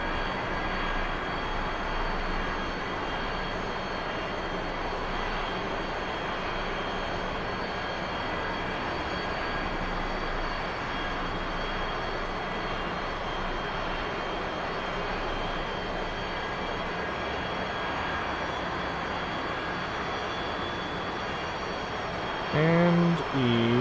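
A steady, loud roar from the jet engine of an A-4E aircraft flying a Blue Angels airshow solo practice in the DCS World flight simulator drones on with little change throughout.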